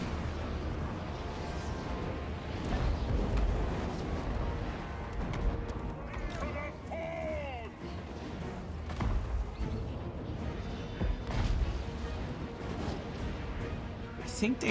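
Cannon fire in the battle game Total War: Warhammer, dull booming shots and rumbling impacts scattered across a dense, noisy battlefield mix, with a few sharper bursts standing out.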